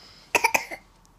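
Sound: coughing

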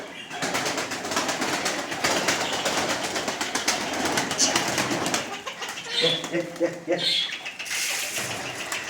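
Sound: ornamental pigeons in a loft

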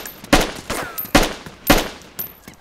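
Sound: gunfire in the video game DayZ

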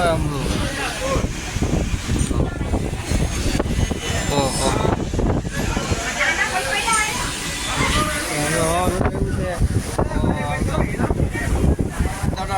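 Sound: strong wind

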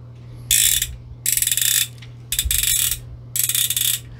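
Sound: winding film in a plastic Diana Lomography 120 camera

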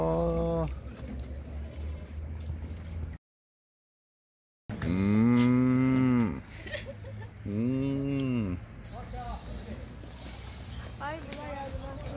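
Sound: cow mooing at animal park

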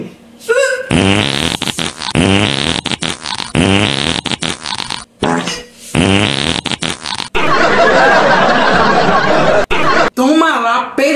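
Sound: fart

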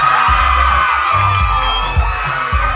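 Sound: school crowd cheering for a contestant at a beauty pageant

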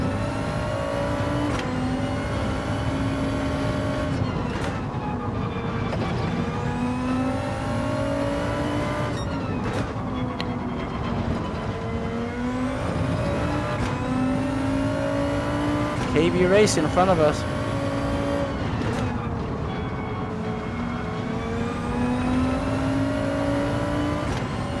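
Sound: race car engine in Gran Turismo 7 video game at Brands Hatch

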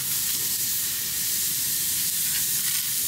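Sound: onions caramelizing on a hot cast iron pan

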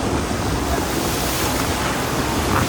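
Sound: large sea waves and strong wind around a fishing boat

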